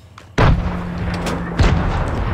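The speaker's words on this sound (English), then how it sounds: "I heard gunshot outside" Two sharp, loud gunshots in a video game ring out about a second apart, each followed by a booming echo and lingering rumble.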